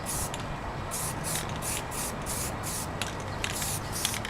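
Aerosol primer sprays in short, repeated hissing bursts, laying a very light coat over sanded-through spots on a Suzuki RG250 motorcycle part being restored, steady and close.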